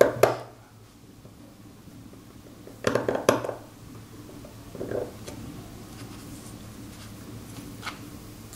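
A knife cuts into a stone seal in short scratchy strokes, with two or three brief gritty scrapes separated by pauses. The sound is close and quiet, with no talking.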